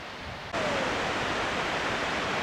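Surf washes steadily onto Oak Beach in tropical north Queensland, Australia, a continuous broad roar that swells suddenly after a quiet first half-second and then holds loud and even.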